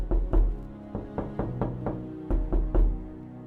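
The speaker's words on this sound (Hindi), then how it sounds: "उतने में ही कोई घर का दरवाजा खटखटा है।" Knocking on the wooden door of a house, a series of about eight firm, hollow raps in uneven groups of two and three, close and clear with no voices.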